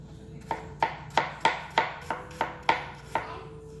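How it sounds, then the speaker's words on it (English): A knife chops fresh peeled ginger on a cutting board, nine crisp, evenly spaced strikes in a steady rhythm, close and clear with no talking. "Ginger, like garlic, is one of those things that the more you chop it, the more it releases this aromatic flavor"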